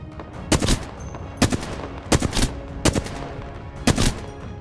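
Automatic gunfire in the video game Apex Legends, played as Wraith: several sharp bursts of rapid shots in an uneven rhythm, loud and close, with a low background hum between them.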